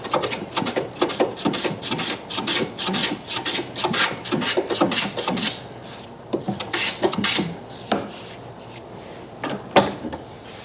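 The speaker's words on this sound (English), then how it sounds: "Now that I've completed planing all 4 sides of the box" Hand plane shaving the sides of a wooden box, with a series of close rasping strokes in uneven bursts and short pauses between passes.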